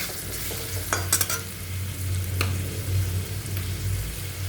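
Turmeric tipped into hot oil for a Bengali dhokar dalna, a steady close sizzle over a low hum, broken by a few sharp spatters and scraping stirs early on, with no speech.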